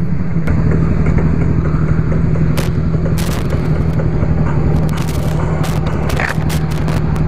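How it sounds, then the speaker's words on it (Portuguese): A Honda CB1000R motorcycle idles loudly and steadily, with a strong low bass rumble from a subwoofer under the seat throughout and occasional clattering bursts on top. "Tem um subwoofer aí embaixo do banco."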